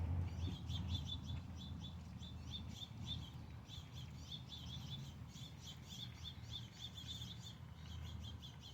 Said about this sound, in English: I guess now the birds want to make noise.